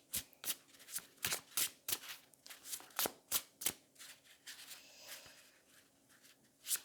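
Tarot cards are shuffled and drawn, a string of crisp riffling snaps and soft slides up close, quiet overall, with no talk.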